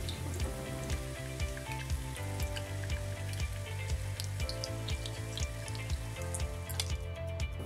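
Beef shami kebabs frying in oil in a pan give a steady, dense sizzle with constant crackling and popping, heard close and alone without any talk.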